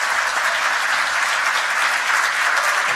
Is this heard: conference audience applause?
yes